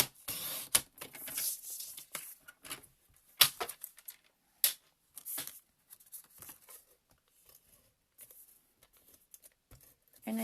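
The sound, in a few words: paper being cut for a card base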